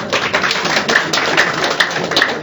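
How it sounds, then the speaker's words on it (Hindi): Audience applause welcoming guests at a political alliance press conference, steady dense clapping throughout, fairly loud and close, with no speech over it. "एक बार ताली बजा के आप लोग स्वागत है"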